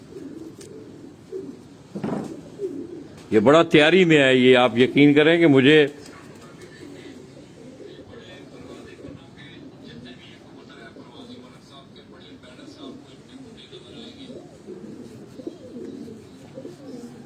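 Flying pigeons of a racing breed coo on a rooftop beneath steady male conversation, with one loud, warbling burst of calling in the middle before the talk carries on.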